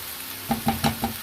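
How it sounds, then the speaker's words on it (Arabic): Sliced mushrooms and onion fry in a pan, a steady close sizzle broken by four quick, evenly spaced scraping stirs. "كنخليو هاد لي شامبينيون كيطيحوا حتى هما شويه مع البصله"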